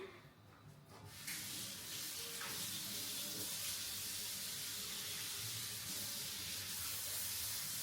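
A spoon is rinsed under a running tap, the steady rush of water starting abruptly and staying loud and constant, close to the sink.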